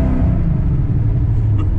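Built Coyote-powered S197 Mustang with a TVS supercharger launches hard with a loud, deep, continuous engine roar and tire rumble as the rear tires spin, heard up close throughout.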